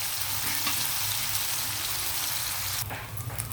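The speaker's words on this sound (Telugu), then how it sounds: "ఇవి కొంచెం లైట్గా వేగించాలండి. ఆయిల్లో వేగిన తర్వాత మనం వీటిని పక్కకి తీసేద్దాం." Dried shrimp fry lightly in hot oil, giving a steady, close sizzling hiss that runs the whole time, with a brief shift of stirring or movement near the end and no one talking.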